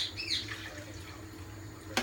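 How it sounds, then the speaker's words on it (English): Water pours steadily into a cooking pot of hot, spicy mutton curry made with salted chicken stock, a soft, continuous wash that stays quiet and close for about two seconds. "Put a bit more water in."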